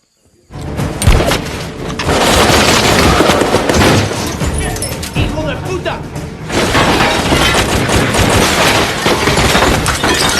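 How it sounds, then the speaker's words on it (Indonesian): A suspected terrorist sprays a barrage of gunfire at troops storming a house in a film scene. The shots come as loud, dense, sustained volleys after a brief silence, with a short lull between the bursts. "seorang yang diduga anggota teroris membombardir dengan tembakan"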